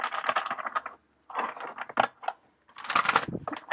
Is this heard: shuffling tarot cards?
yes